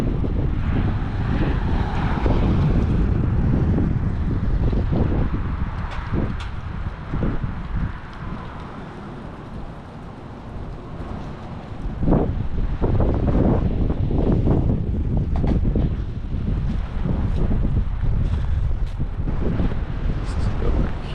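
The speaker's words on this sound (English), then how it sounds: "I say we're gusting around 40 right now" Strong, sustained windstorm gusts roaring and buffeting the microphone in the Ohio Valley, a loud continuous rumble that dips briefly midway and then surges back, with a voice talking under it.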